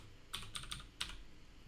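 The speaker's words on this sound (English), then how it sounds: "type in node tello with a capital T" Short bursts of keystrokes on a computer keyboard as a command is typed: about four quick clicks in uneven rhythm, close and fairly quiet, with no voices.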